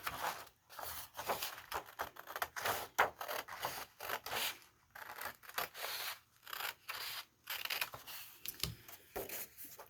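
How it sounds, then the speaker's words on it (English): Scissors snip through paper along a crease while a toilet paper roll animal craft is being made, a close, dry run of irregular cutting strokes and rustles with short pauses, no talking. "you need your scissors to cut on your crease"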